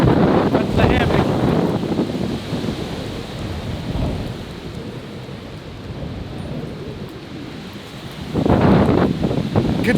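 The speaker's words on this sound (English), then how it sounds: "Could literally hear the wind coming for a couple minutes before it actually got to us." Strong storm wind roaring across open water on a northern Wisconsin lake, heavy rumbling buffeting on the microphone that surges loud at the start and again near the end, with a lull between.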